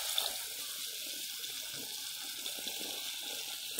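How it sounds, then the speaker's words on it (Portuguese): Water poured into a pan holding chopped tomato and onion makes a steady, close hissing splash for a few seconds, and no one speaks over it. "Agora eu vou colocar um pouquinho de água."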